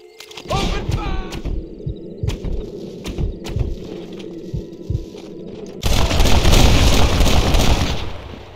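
A gunfight erupts in Red Dead Redemption, with sharp rifle and pistol shots cracking in irregular volleys, some close and heavy, before it swells into a dense roar of sustained fire and blasts, and birdlike calls ring out early on.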